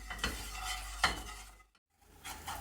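Sugar being brought to its first colour in a saucepan while it is stirred, giving soft scraping and bubbling close by, with a brief silent gap near the end and no talk.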